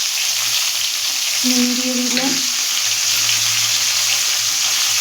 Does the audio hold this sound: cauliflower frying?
yes